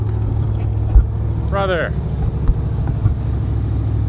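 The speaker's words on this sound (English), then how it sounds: "I feel like this car running as good as it is right now" A 1984 Chevy Caprice two-door with a replacement engine idles with a steady low rumble and pulsing throb, close and continuous, while a person speaks briefly over it.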